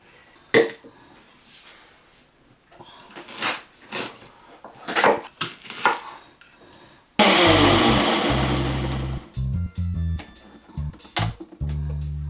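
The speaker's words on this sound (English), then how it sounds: "Onion, pepper, and ginger blended." A blender grinds onion, pepper and ginger for a traditional Ghanaian dish, starting loud after some quieter kitchen clatter and running steadily with brief pauses and restarts toward the end.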